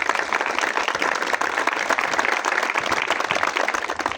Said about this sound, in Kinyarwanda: Mubaha amashyi bombi.